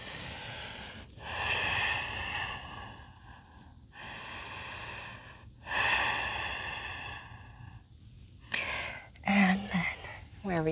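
Deep yoga breaths during an outdoor session at Buenos Aires National Preserve, a few long, airy inhales and exhales close to the mic with short pauses between them and no speech.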